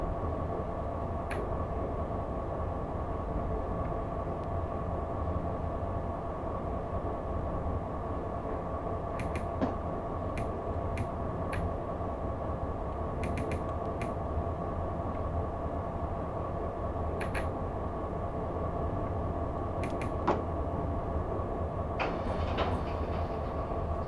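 A freight train in Train Simulator rolls slowly into Hergatz station, a steady low rumble with scattered metallic clicks and clacks, no voices.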